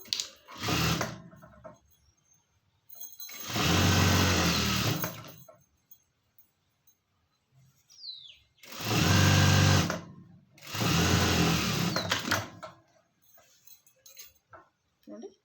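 Sewing machine stitching along the top edge of a blouse lining, running in four separate bursts of steady whirring with quiet pauses between them, close and fairly loud.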